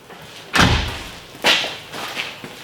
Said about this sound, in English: Here, close the door.